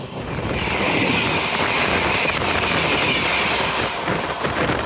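The Westcoast Superfast Express train rumbles steadily along the rails, a continuous loud roar with faint rhythmic clatter and no voices.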